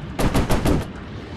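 A machine gun on a WW2 warplane fires in a VR flight game, a quick close burst of about five rapid shots followed by silence.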